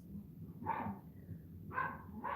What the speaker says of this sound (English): I don't know if you guys heard my dogs barking,